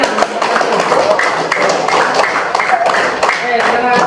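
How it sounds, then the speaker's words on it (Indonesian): Students in a primary school classroom clap together in a lively, fairly loud burst of applause that continues throughout, with some voices mixed in. "Oke, tepuk tangan ya."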